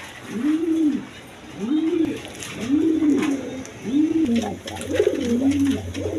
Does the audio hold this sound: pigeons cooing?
yes